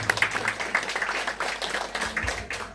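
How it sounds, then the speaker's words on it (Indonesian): A congregation at a church thanksgiving reception for a nun's perpetual vows claps for the choir, a dense, uneven patter of many hands at middle distance. "Kita beri tepuk tangan untuk mereka ini."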